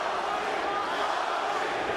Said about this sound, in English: As the fans show who they are rooting for, cheering Cung Le's name.